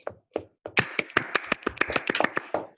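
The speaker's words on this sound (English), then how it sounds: "I give her a big clap" A small audience claps for a student who topped her board exams, starting with a few scattered claps that quickly build into a steady burst of sharp, close hand claps lasting a couple of seconds.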